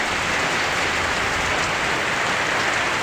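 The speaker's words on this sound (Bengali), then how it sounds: "ঠিকই 26 তারিখ থেকে বৃষ্টি শুরু হয়ে গেছে" Kalbaishakhi storm rain in Bajitpur, Kishoreganj, with gusty wind: a dense, steady hiss of rainfall pattering on surfaces nearby, loud and unbroken throughout, with no voices.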